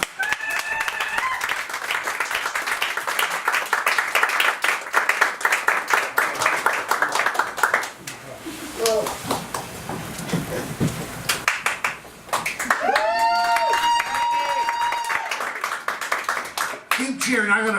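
Theatre audience at a Broadway cabaret show applauding and cheering, dense clapping filling the first half, then thinning as music and speech take over.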